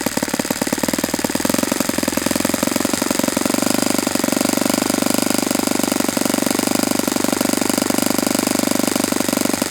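A Saito FA-91S four-stroke model engine idles loud and close, a rapid, steady buzzing chatter that holds constant from start to finish without pause.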